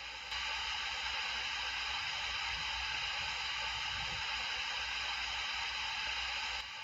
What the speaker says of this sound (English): then cut to static